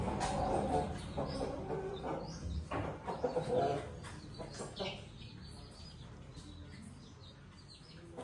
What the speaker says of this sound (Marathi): इथे आपल्या कोंबड्या आलेल्या आहेत